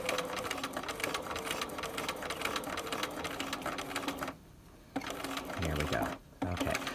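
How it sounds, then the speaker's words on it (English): Sewing machine stitching fabric along a pinned stitching line, a fast rhythmic mechanical chatter that runs steadily, pauses briefly and resumes, heard close with a voice speaking over part of it. "we're going to sew along the stitching line"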